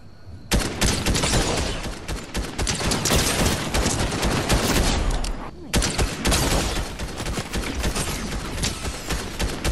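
Charge SMG fire rattles in rapid, nearly continuous bursts in a video game, loud and close, with a short pause around the middle before the stream of shots resumes.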